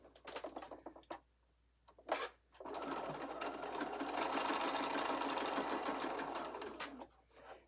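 A sewing machine joins two fabric pieces with a quarter-inch seam: a few short stitching bursts, then one continuous, close, steady whirring run before it stops.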